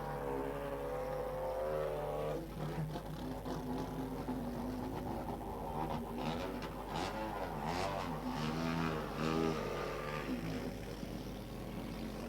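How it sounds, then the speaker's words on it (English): A rally car at the closing ceremony of the FIA ARC Equator Rally in Kenya rumbles and revs at moderate distance, its engine note rising and falling steadily over crowd noise for several seconds. "as we await the fourth place car to come on"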